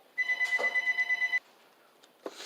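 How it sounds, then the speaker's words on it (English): A telephone rings in the background in one sustained electronic trill of about a second, then stops, leaving a quiet room with a faint rustle near the end. "Excuse that phone ringing in the background"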